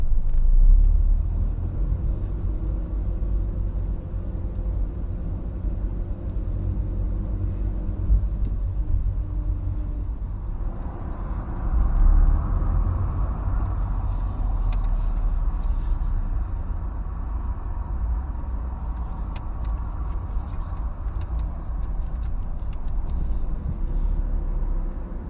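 A car's engine hums low and steady through a forward bay-parking manoeuvre, with a faint rise in rumble midway as it creeps into the space, close and even with no speech.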